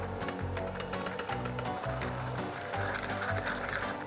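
Eggs being beaten into warm churro dough, a rapid rhythmic mechanical clatter of beating with repeated scraping strokes, loud and close, no speech.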